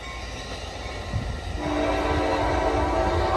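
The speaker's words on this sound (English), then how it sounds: "this is Amtrak San Joaquin Train 716 to Bakersfield" Amtrak San Joaquin passenger train, led by F59PHI locomotives, sounds a loud sustained horn chord as it passes near Crockett, California, over a steady rumble of rolling rail cars.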